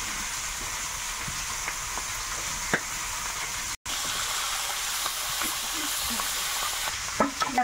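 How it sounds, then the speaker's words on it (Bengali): Fish frying in a pan in a home kitchen, a steady crackling sizzle with occasional pops and a brief dropout midway, heard alone without talk. "এদিকে মাছ ভাজা চলছে"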